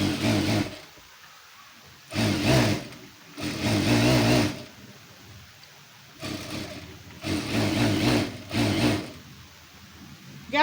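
Sewing machine stitching the seams of a leaf-neck blouse, heard as several loud whirring bursts of a few seconds each, separated by quiet pauses.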